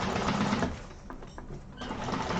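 A sewing machine runs a straight backstitched seam across a handbag, a close, steady mechanical whir. It dips briefly mid-run, then picks back up.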